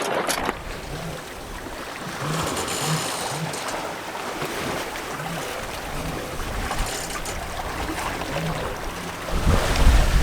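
A sailboat rolls in choppy ocean swell under roughly twelve knots of downwind breeze, with steady wind rush across the microphone, washing waves and low periodic thumps and creaks from the hull.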